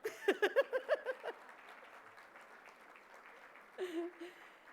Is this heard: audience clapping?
yes